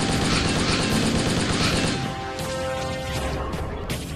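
Rapid gunfire from Spartan Firefight, a 2D Halo-style mobile shooter game, plays as a dense, loud burst of overlapping shots that eases into a lighter spatter of fire after about two seconds.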